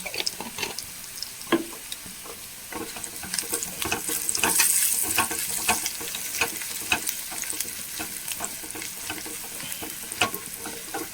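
A vegetable stir-fry sizzles loudly with crushed chilli in a hot pan, a dense crackling hiss punctuated by frequent stirring scrapes, close and continuous.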